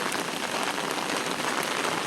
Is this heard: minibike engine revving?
no